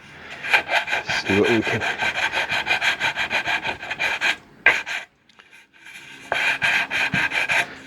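A 180-grit sanding block rubs across a Partscaster guitar body being repaired for dents and holes, making rhythmic back-and-forth rasping strokes up close, pausing briefly midway before resuming, with a short spoken remark.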